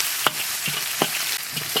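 Garlic sizzles in hot oil in a wok, a steady crackling hiss broken by a few sharp stir-scrapes spaced through the short stretch.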